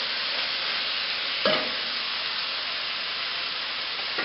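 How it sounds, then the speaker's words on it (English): A spoon stirs vegetable curry with cinnamon in a pot over a constant, even hiss. A single scraping clink sounds partway through, with no speech. "we're just going to stir this together"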